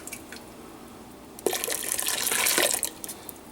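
After a few soft drips, blonde ale wort pours steadily into a brewing fermenter for about a second and a half, then tapers off into quiet trickles.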